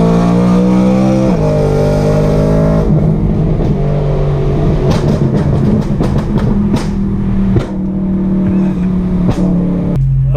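A BMW E92 M3 with a loud exhaust accelerates hard through the gears on a canyon road, its engine tone climbing and dropping at each shift, followed by sharp pops and crackles on the overrun, heard from close by.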